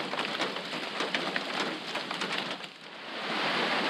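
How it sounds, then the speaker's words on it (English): Steady, dense rain patters loudly on an old fishing cabin during a tropical storm, a continuous close hiss of drops that swells slightly toward the end, with no voices. "Starting to rain a little bit"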